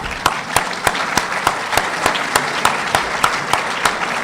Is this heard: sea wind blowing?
no